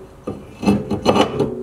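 New brake rotor slid onto the front hub of a Nissan Skyline, giving close, scraping metallic rubs in a few short uneven strokes with no talk.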